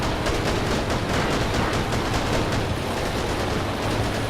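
Dense, continuous gunfire and explosions rattle through a fast car combat video game, a steady rapid barrage with no let-up and no voices.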